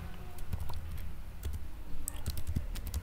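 Typing on a phone or keyboard to enter a question into an app, with a run of quick, irregular clicks and taps close by against a quiet background.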